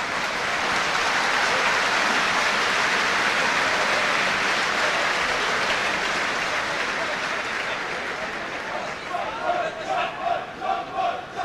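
A large rugby crowd at a 1999 Samoa versus Japan match in Wrexham roars and applauds Japan's handling, a loud sustained wash of cheering that fades toward the end as a commentator's voice comes in.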